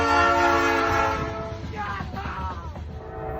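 A train sounds its horn at the Waddell Road grade crossing in the Upstate, a loud sustained multi-tone blast that holds steady and then fades under the rumble and clatter of the passing cars.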